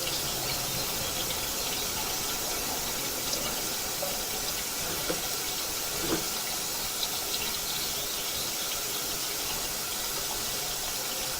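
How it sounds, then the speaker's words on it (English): Water rushing down through a residential sewer pipe, a steady, fairly faint hiss of flow that runs evenly throughout with no voices. "wait till our water comes down through the system here"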